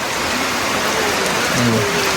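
Heavy rain pours over a mountainside, a steady dense hiss filling the whole clip at close range, with faint tonal voice-like traces low underneath.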